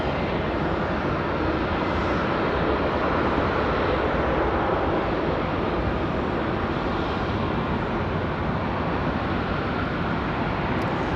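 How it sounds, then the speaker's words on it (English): An Airbus A321 arriving from Philadelphia at Raleigh-Durham International Airport gives a loud, steady jet roar that fills the whole stretch without a break. "Again, this A321 from Philadelphia."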